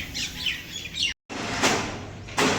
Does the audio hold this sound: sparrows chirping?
yes